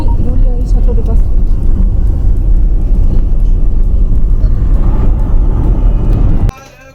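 A shared shuttle bus drives through Egypt, its engine and road noise forming a steady loud rumble throughout before cutting off abruptly near the end.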